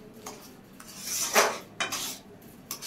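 A spoon scrapes and clinks against a pan while sugar and water for laddu syrup are stirred. A few distinct metallic scrapes and taps stand out over a quiet background.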